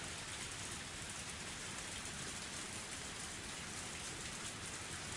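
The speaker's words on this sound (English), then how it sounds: "The rain was like a blessing from heaven." Steady rain falls continuously in an even hiss with no breaks, moderately soft and enveloping, no voices present.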